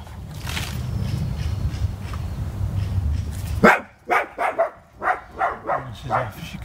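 A dog barks in a garden at neighbours moving dustbins, a burst of about eight loud, close barks in a steady rhythm after several seconds of rumbling background noise.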